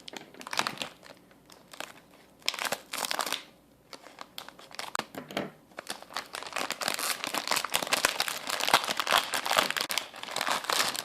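Someone opens the plastic package of a Kracie Popin Cookin' donut kit, making bursts of close crinkling and crunching as the wrapper is handled and pulled apart, with brief pauses between them and no talking.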